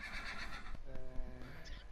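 A horse in the Minecraft video game, one turned upside down by its name tag, gives a short whinny in the middle of continuous game background noise.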